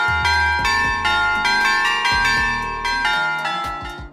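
A bright, ringing Ring doorbell chime melody of several bell-like tones, loud and clear, each note sustained and overlapping as the tune plays alone.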